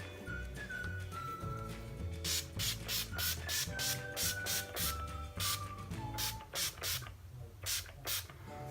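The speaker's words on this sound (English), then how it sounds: "the Urban Decay Makeup Setting Spray All Nighter, just to set all of that in place" Several short bursts from an Urban Decay All Nighter makeup setting spray, loud and close, pulsing in a quick uneven rhythm over steady background music with a whistling melody.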